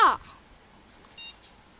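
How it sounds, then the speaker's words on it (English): A single short electronic beep from a trash-picked Zeus tower computer starting up sounds faintly after a brief burst of noise at the start, with quiet room tone around it. "We have a beep."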